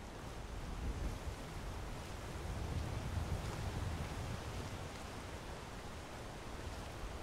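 A waterfall in the video game Skyrim, modded with Requiem, roars as a steady broadband wash of rushing water, even and unbroken, heard alone without voices.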